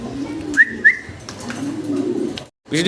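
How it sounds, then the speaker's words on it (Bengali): A pair of blue barless Belgian racer pigeons: two short whistly calls come close together, over a low, soft cooing murmur that carries on steadily. "আছে এক জোড়া রেসার কবুতর এখানে আর রেসার হচ্ছে ব্লু বার্লেস ব্লু বার্লেস বেলজিয়াম রেসার"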